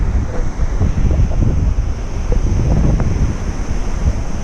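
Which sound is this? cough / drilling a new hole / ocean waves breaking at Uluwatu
ocean waves breaking at Uluwatu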